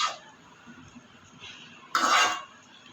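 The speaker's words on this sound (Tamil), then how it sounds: "ஒரு மூடி போட்டுடலாம்" A metal lid clatters onto a cooking pot of boiling water with a brief ringing clink, after lighter kitchen clinks and a soft scrape.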